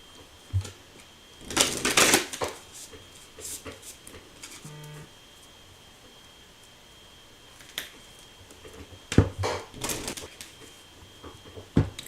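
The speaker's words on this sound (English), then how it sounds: "One more shuffle." A deck of cards is shuffled by hand in a few quick riffling bursts, close and crisp, separated by quieter pauses with small taps and handling noises.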